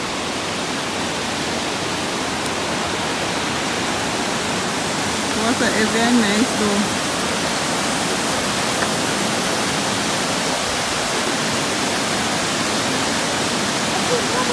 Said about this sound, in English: So we are approaching the river.